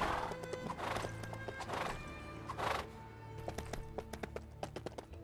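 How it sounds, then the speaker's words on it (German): Horses whinnying and clip-clopping at a gallop in the Lego Lord of the Rings video game, hooves beating in quick rapid runs with neighs over steady game music, fairly close and moderately loud. "Lass uns schnell reiten. So schnell, wie uns unsere Pferdchen tragen können."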